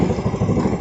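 A Yamaha Jupiter Z motorcycle engine runs just after starting, a close, loud, rapid chugging idle with steady pulsing throughout.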